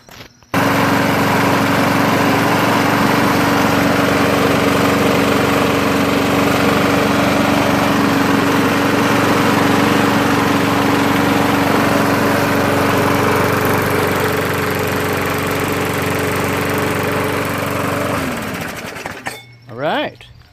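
A Craftsman 4.5 HP 21-inch Briggs & Stratton push lawn mower engine runs loud and steady close by for about eighteen seconds, then cuts off, followed by brief handling noises.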